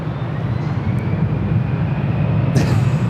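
Turkish Airlines airliner on the runway at Los Angeles airport, a steady loud roar of jet engines spooling up and holding, with a brief higher whine near the end.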